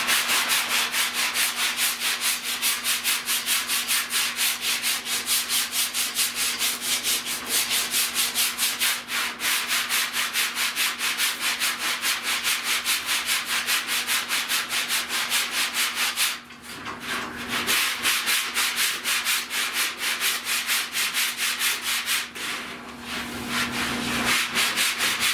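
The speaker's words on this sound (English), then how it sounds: "I sand till I see that I'm busting through" Body filler being hand-sanded on a car's lower fender during auto body repair, a steady, close, continuous scratchy rubbing that runs almost unbroken, with two brief pauses before the strokes resume.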